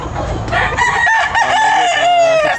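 A rooster crows loudly and close at a chicken market in Tabunok, one long strained call rising and falling, with other fowl clucking around it.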